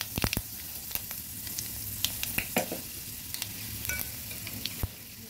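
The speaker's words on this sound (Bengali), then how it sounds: "হালকা ভেজে নিচ্ছি।" Cumin and panch phoron spices frying lightly in a pan, a steady soft sizzle broken by sharp ticks and crackles of popping seeds and occasional stirring, close and moderately quiet with no talking.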